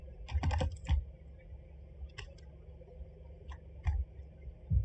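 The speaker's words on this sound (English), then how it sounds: "my keyboard is so loud" A loud computer keyboard is typed on at a desk, quick clustered bursts of clicky keystrokes with short pauses between them, close and unaccompanied by talk.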